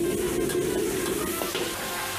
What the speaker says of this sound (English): Searing salted fish become a golden color. We add in the salted garlic.